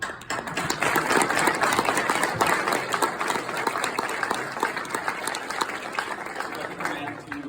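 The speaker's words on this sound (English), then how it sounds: "you guys deserve an applause for that" Applause from fraternity chapter members at a senior speech, dense and continuous clapping that fills the clip, with some voices mixed in.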